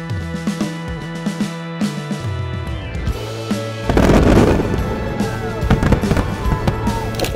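Fireworks bursting at a show in Singapore, repeated booming and crackling explosions in a steady rhythm, growing denser and louder toward the end, with faint crowd sounds underneath.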